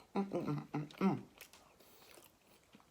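Someone eats a soft sponge cupcake topped with an Oreo that has gone very soft, making a few close, quiet chews and bites, followed by faint rustling.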